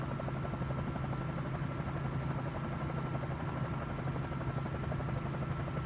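Bell 47J Ranger helicopter in Microsoft Flight Simulator, a steady droning rotor and engine buzz with a constant rapid beat, heard alone from inside the cockpit.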